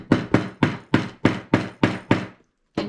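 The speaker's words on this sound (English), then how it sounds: "So I'm going to take my hammer" A hammer pounds straight down on a metal snap fastener set into a cardboard storage box: seven sharp, evenly spaced blows close to the microphone, then a short pause and one more strike.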